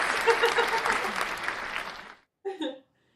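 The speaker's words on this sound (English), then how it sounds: "I'm gonna give you the go ahead, give you a round of applause." Applause during a live interview, a steady burst of clapping for about two seconds that cuts off, followed by a brief spoken voice.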